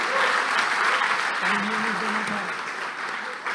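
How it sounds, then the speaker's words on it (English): A seminar audience applauds a team, a dense sustained clapping that fills the room, with a voice talking over it. "Huge round of applause for unique team."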